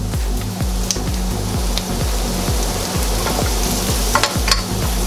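Glazed carrots tossed with freshly chopped parsley in a hot pan give a continuous close sizzle, with rhythmic scraping tosses repeating roughly every half second.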